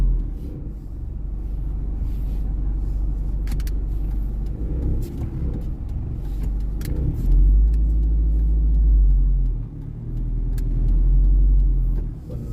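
A car idles and creeps through a packed temple grounds, its low engine rumble steady and close as it maneuvers into a parking spot, swelling slightly around the middle.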